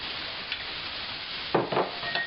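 Ingredients hiss and sizzle steadily as they are stirred in a hot cast iron skillet, heard up close with a couple of louder scraping stirs partway through.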